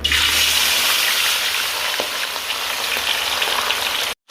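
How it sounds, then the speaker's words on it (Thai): Fish fries in plenty of hot vegetable oil, a loud, dense, continuous crackling sizzle close by that holds steady for about four seconds before cutting off abruptly. "นั้นครับก็นำปลาลงไปทอดครับ"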